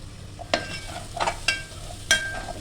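Mixed vegetables for pulao frying in a pan, stirred with a spoon in several sharp scrapes and clinks over a steady soft sizzle, close and clear.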